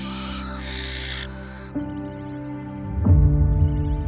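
Barn owl chicks in a nest box give harsh hissing, rasping calls, loud and close, with a few overlapping begging cries and low rustling toward the end.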